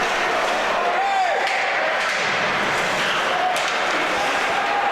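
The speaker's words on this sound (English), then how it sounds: "this crowd, man, they make some good noise" Loud, steady crowd roar filling a stadium during a college game between SJSU and Oregon, a continuous dense wash of cheering voices with a commentator talking over it.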